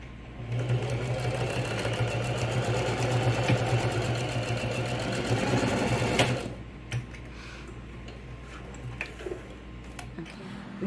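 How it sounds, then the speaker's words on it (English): A sewing machine runs steadily while stitching a toiletry pouch, a loud continuous whirring hum for about six seconds before it stops, leaving quiet handling clicks and light rustles. "I'm going to finish stitching over here."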